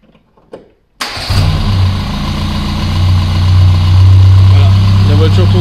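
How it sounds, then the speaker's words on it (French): A Peugeot 205 engine cranks and fires abruptly after a near-silent moment, then settles into a loud, steady, close idle with a low rumble that holds evenly to the end. "On peut regarder un démarrage."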